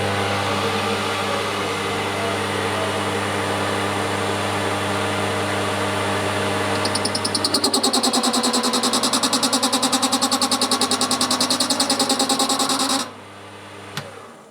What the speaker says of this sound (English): Right, so we go at cutting this piece off of here.